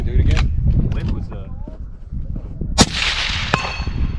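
A long-range rifle fires at an outdoor shooting school, one sharp loud crack followed by a fainter distant impact moments later, with people talking over the shot.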